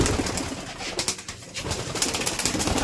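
Khasa pigeons coo nearby, a dense, continuous murmur of overlapping calls filling the whole moment.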